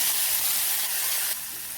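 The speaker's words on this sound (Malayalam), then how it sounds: "1 ടേബിൾ സ്പൂൺ എണ്ണയിൽ ഉള്ളിയും കടുകും കറിവേപ്പിലയും ചുമന്ന മുളകും കൂടെ വറുത്ത് കോരിയത് ഒഴിച്ചു കൊടുക്കാം" A sharp, steady sizzle and hiss as hot oil fried with onion, mustard seeds, curry leaves and red chillies is poured into tomato curry, fading slightly toward the end.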